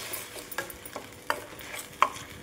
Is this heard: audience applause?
no